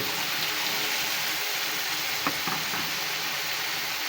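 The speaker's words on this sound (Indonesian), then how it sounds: "Tuangin tempe yang tadi digoreng." Fried tempe tipped into a hot pan and stirred, giving a steady close sizzle of frying with a few faint scrapes and knocks from the stirring.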